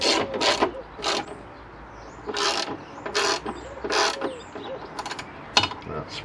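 Ratchet clicking in repeated short bursts while bolts on a Mini R50/R53 rear trailing arm are tightened, close and fairly quiet, with brief pauses between strokes.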